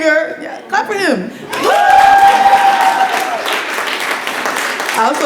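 An audience at an evening stage event breaks into applause with some cheering and chuckles, loud and sustained after a voice speaks at the start.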